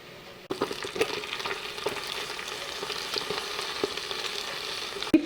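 Bacon frying in a pan, a steady close crackling sizzle with scattered sharp pops and stirring scrapes, ending in a single louder clack.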